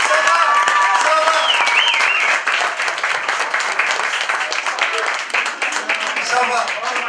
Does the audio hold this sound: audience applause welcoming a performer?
yes